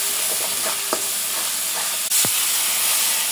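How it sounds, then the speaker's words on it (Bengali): Spice paste of chili powder and salt sizzles steadily in a hot pan for a katla fish curry with ridge gourd and potatoes, with occasional spoon scrapes from stirring and a sharp clatter near the end. "মশলাটা একটু কষায় নেব।"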